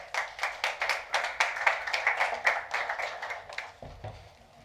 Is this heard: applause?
yes